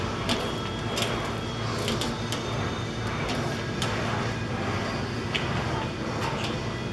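An English wheel rolls over a steel Jaguar E-Type fender panel, producing a soft continuous rumble broken by regular light clicks as the metal is tracked back and forth, no talk.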